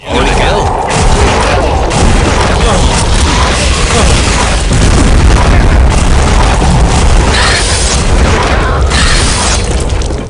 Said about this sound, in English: This is where we get an early rocket launcher, and it is a beast. It sounds and feels amazing.